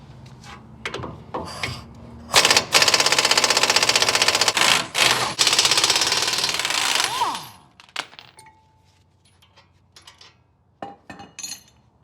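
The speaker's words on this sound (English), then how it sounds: "we need to take a 21mm socket and remove the two bolts that hold the caliper mounting bracket to the" A 21mm socket on a ratchet or impact tool loosens the two bolts holding a Ford caliper mounting bracket to the spindle, giving a long loud buzzing run of several seconds framed by metallic clinks and taps.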